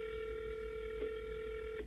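A telephone line produces a steady, sustained electronic tone, close and clear, with a couple of slight blips near the end.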